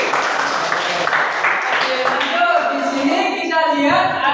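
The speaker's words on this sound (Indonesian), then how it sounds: "Oke, tepuk tangan Mbak Emi." Ninth-grade students in an Indonesian civics classroom clap together in a brief burst, and then a teacher's voice carries on talking.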